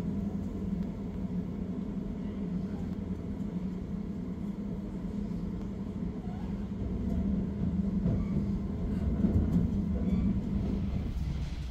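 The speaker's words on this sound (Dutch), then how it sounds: "Deze trein nemen we tot aan Amersfoort." Inside a Dutch passenger train heading toward Amersfoort, a steady low rumble of wheels and carriage hum fills the cabin, growing slightly louder toward the end, with no talking.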